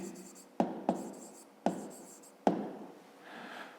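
A pen writes on paper during a fifth-grade maths exercise: four crisp tapping onsets trailing into short scratchy strokes, then a softer smooth stroke, close and quiet.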